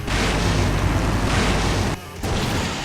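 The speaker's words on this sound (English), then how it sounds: "Now that's an explosion, ladies and gentlemen." A loud, sustained explosion rumble in the video game Stardew Valley, a dense roaring blast that fills the clip before briefly dropping out near the end and resuming.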